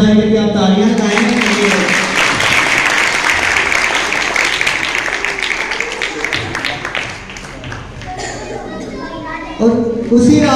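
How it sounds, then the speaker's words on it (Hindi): An audience at a Christmas program claps steadily and fairly loudly for several seconds, the applause thinning slightly before a brief renewed burst near the end, with some voices mixed in. "बताइए कि आप तालियां लगाएंगे।"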